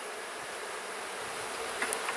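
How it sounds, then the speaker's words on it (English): A dense, steady buzz of many honeybees around an opened hive fills the air at close range, continuous and even, with no voices. "the bees, they're starting to get a little loud"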